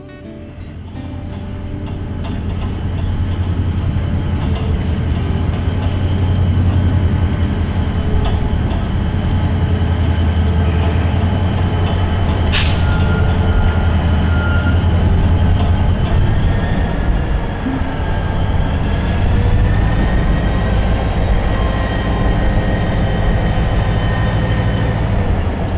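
A CN freight train rolling over very rough track near Cecil, Ohio, a loud continuous rumble and grinding with a sharp metallic squeal partway through, close and sustained throughout.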